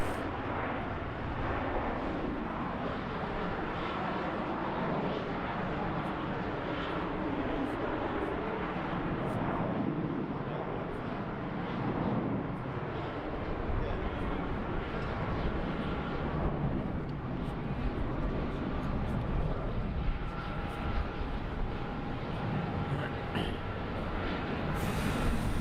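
A jet airliner at Melbourne Airport at night, cleared for takeoff on runway 34, gives a steady distant roar that swells slightly, with a faint radio tone and no nearby talk.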